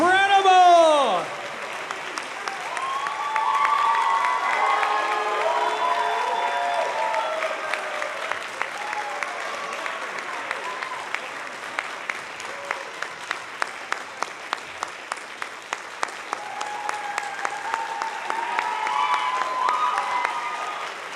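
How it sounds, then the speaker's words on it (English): Audience applause and cheering for a junior high honor band at a band camp performance, starting with a whoop and settling into steady clapping with some louder individual claps, lasting the whole stretch. "What about a standing ovation, ladies and gentlemen?"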